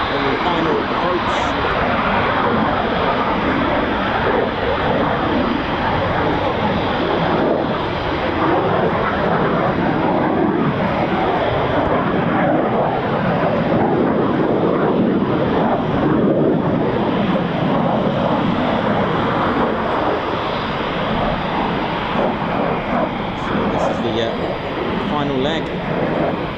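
A military jet on final approach at an RAF station, where Typhoon FGR4 and F-35B aircraft fly, gives a continuous loud broadband roar that stays dense and unbroken throughout, with some wind buffeting.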